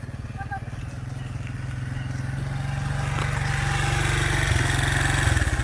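A motorcycle being ridden in wheelie practice rumbles with a close, throbbing engine that climbs steadily in pitch and volume as it revs up, with a voice briefly heard near the start.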